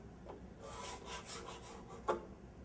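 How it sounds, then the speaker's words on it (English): A scraper drags across the end of a glued-up solid wood panel to clean off glue, making close, raspy scraping strokes with a sharper scrape near the end. "Scrape this end of it."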